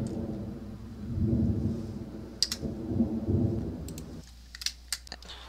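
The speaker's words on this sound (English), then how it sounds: "And it's raining." Rain and rolling thunder in The Sims 4 life-simulation game, a low, steady rumble of rain and thunder that cuts off near the end, with sharp keyboard and mouse clicks scattered over it and no talking.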